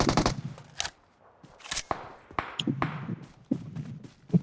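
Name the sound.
firecrackers bursting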